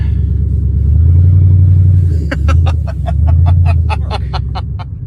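A car engine rumbles low and steady, swelling as it accelerates, while a series of sharp rhythmic clicks or ticks joins partway through.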